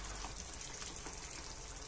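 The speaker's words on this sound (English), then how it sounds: "And this is bubbling away nicely." Chorizo-chicken lentil stew bubbles steadily in a covered pot, a dense, even crackle and hiss of simmering liquid with soft pops throughout, close and moderately quiet, with no one speaking.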